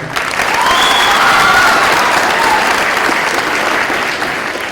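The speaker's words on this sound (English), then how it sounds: "Just keep up the clapping." Sustained applause from a crowd at a new school ribbon cutting at Dugway Proving Ground, a dense, even roar of clapping throughout with faint voices beneath.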